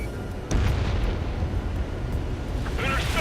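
Missile launch and explosion in the combat flight game Ace Combat 7, an abrupt blast followed by a sustained roaring rumble, loud and steady over jet-like background noise.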